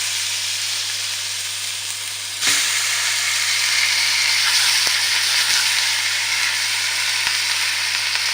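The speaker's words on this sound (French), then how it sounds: "c'est bien cuit, on met les steaks" Ground beef patties (steak haché) hit a hot pan and burst into a loud, sustained sizzle, with a few faint clinks as they settle.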